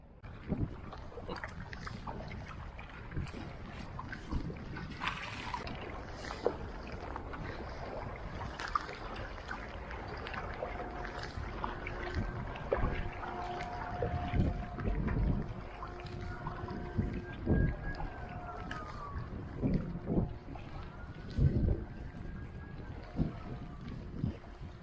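A small kayak and a paddleboard glide along the calm River Shannon in Ireland, with soft, irregular paddle splashes and dips close by over quiet outdoor ambience.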